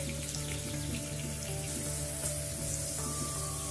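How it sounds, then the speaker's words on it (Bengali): Onion, chili and garlic frying in ghee for an egg chicken masala curry, a steady close sizzle and crackle throughout with no voices. "আর পেঁয়াজ, লঙ্কা আর রসুন এখানে আমি 1 চামচ ঘি অ্যাড করবো"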